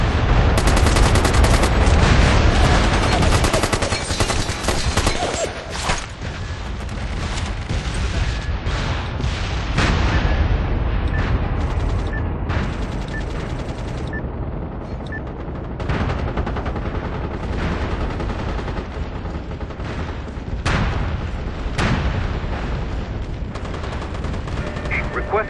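A constant battle din in the MAG video game, with rolling artillery booms and heavy machine-gun and rifle fire that never let up, loud and dense throughout, and occasional voices underneath.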